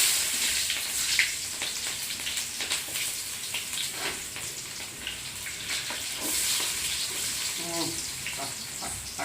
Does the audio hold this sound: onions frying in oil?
yes